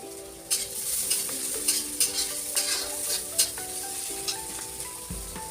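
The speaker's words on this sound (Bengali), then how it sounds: "এবারে রসুন বাটাটা দিয়ে দেবো।" Garlic paste frying in hot oil with browned chopped onions for a small-fish curry, giving a steady bright sizzle broken by repeated scraping clinks of stirring in the pan.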